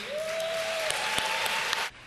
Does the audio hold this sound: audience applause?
yes